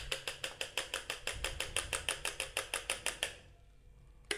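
Eggs whisked in a bowl for rolled-egg batter mixed with water, a fast, even clatter of about twenty quick strokes that stops abruptly, fairly faint and close, with no talking.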